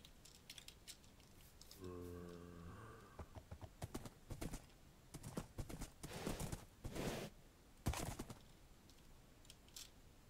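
Horse hooves clip-clop in a Minecraft game, a short run of light, even clicks near the start, followed by scattered sharp taps and clicks of the game at a quiet level.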